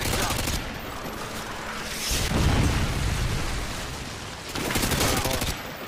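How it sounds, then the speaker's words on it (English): Predator missile strike in a first-person shooter game, a loud booming explosion with rolling gunfire-like crackle filling the clip, swelling twice, with faint voice underneath. "predator missile is down."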